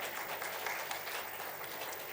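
A church congregation applauding during a Sunday worship service, a steady, dense wash of many hands clapping at moderate distance, continuous and even throughout.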